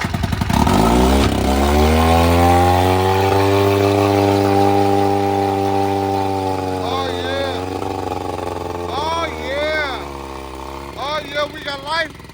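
A boat engine catches after being choked and runs loudly with a steady low drone, revving up and down, while voices talk excitedly over it near the end.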